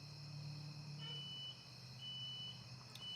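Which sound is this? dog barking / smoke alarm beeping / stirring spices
smoke alarm beeping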